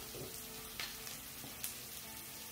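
Oil sizzles faintly in a pan for a turkey gizzard stew, a quiet steady crackle broken by a few small pops, with no talk.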